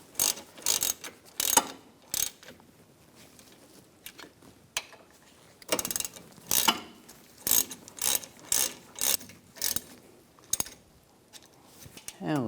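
A ratchet clicks in short rapid bursts while tightening front brake caliper bolts on a 2010-2014 Volkswagen GTI, close and loud with brief pauses between strokes.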